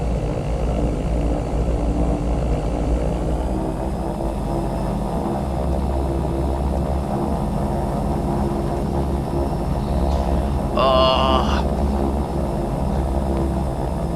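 Propeller aircraft engines in the FSPassengers flight simulator run at 3000 RPM and 40 inches of manifold pressure, a loud, steady, rumbling drone that holds throughout with a brief higher whine near the end.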